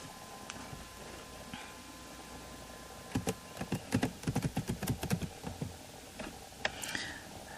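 Computer keyboard typing at close range, a quick burst of dry key clicks in an uneven rhythm after a few isolated taps, with no talking.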